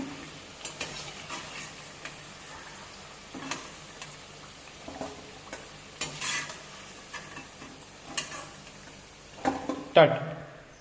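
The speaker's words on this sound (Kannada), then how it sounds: "ಈಗ ಇದು ಫ್ರೈ ಆಗಿದೆ, ಬ್ರೌನ್ ಕಲರ್ ಬಂದಿದೆ." Corn crispy vadas fry in hot oil with a soft, steady sizzle, broken by scattered light clicks and taps of a utensil stirring and lifting them, close and fairly quiet.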